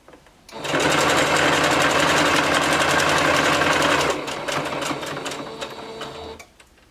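A home sewing machine back stitches the end of a folded bodysuit seam, running in a steady loud mechanical whir for several seconds, then easing to a lighter, uneven stitching before stopping.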